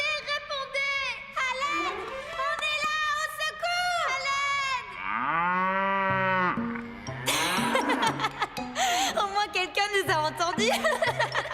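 Cow in a French animated horse-farm series giving a long, low, drawn-out moo midway, surrounded by lively character voices and chuckling.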